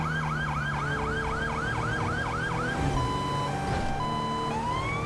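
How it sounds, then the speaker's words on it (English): Police sirens from the Emerging Sirens mod in GTA 5, loud and close: a rapid repeating wail cycles about ten times, then switches to steady alternating tones and a rising sweep, over a constant engine hum, with no talking. "I'm using Emerging Sirens by Monkey Police, which improves a bunch of sirens in different vehicles"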